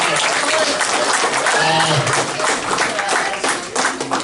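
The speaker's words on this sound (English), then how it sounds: "I'd like to give a round of applause to Iron Mike Sharp" Audience applause at a wrestling Hall of Fame induction ceremony, a dense, steady wash of clapping that fills the room and holds for several seconds with a voice briefly heard through it.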